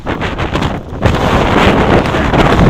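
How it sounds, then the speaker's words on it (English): Strong wind in New York City's Brooklyn Bridge and DUMBO area buffets the microphone with a loud, roaring rush that surges and stays heavy after a brief lull. "I was not expecting it to be this windy"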